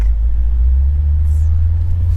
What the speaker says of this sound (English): This is my first time driving stick.